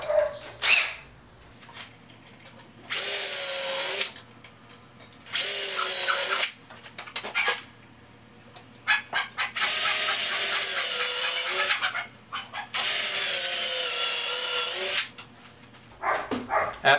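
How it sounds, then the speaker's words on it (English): Several loud bursts of a power drill whining up and settling as it pre-drills pine wood, separated by short pauses with small handling clatter. "I would go ahead and pre-drill, which is what I'm going to do now."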